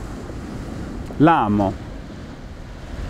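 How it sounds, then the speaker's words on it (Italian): Steady wind noise on a beach during surfcasting, a continuous broadband rush filling the whole clip, with someone speaking briefly partway through. "il vento fa la sua parte"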